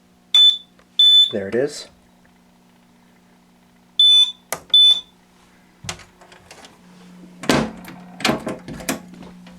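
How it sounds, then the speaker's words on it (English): Fire alarm panel giving a battery trouble signal during a system test: a series of short, sharp electronic beeps in two pairs, followed by clunks and handling noises, with a brief spoken remark. "we're just waiting for the battery trouble to kick in so I can acknowledge it"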